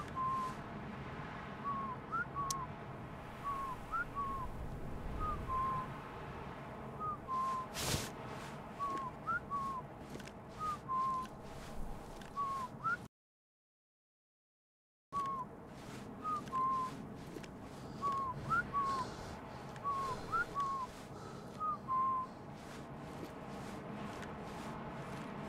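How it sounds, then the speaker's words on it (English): A character in the video game Burden whistles short, repeated melodic phrases at a steady pace, moderately loud over a dim ambient bed, with a brief total silence partway through before the whistling resumes. "Why would these guys just be constantly whistling?"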